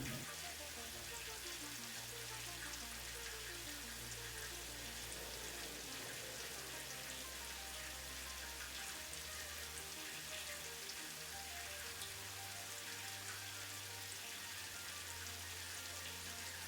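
Steady rain falling in the video game Satisfactory, a dense continuous hiss of drops with a low rumbling bed underneath, constant and loud throughout with no talking.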